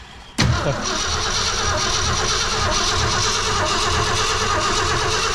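The carbureted 390 cubic-inch V8 of a 1966 Ford Fairlane cranks and catches with a sudden burst, then settles into a loud, steady, rumbling roar close by.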